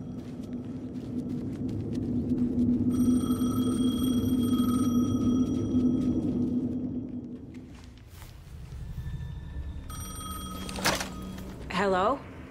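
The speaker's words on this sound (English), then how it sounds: "The payphone was ringing." A payphone ringing in the video game Alan Wake 2, repeated electronic ring bursts over a low droning ambient rumble, fairly clear and close, pausing and then ringing again near the end.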